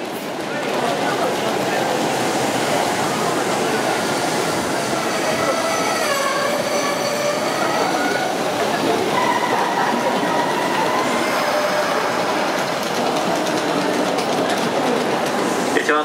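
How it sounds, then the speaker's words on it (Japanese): A Kintetsu 8400/8600 series express train pulls into underground Osaka Namba station, a loud steady rumble with squealing wheels and brakes as it slows, with platform announcements over the top. "一番乗りは電車が参ります。"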